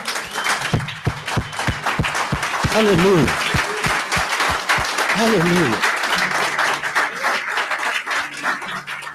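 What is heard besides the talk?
church congregation applause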